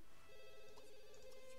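A telephone rings in The Sims 2, a steady electronic trill that holds for about a second and a half against a soft background of game music.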